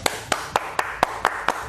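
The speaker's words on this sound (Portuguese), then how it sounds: "bate palma" Seven sharp hand claps ring out at an even, steady rhythm in a radio studio, crisp and close with quiet between each clap.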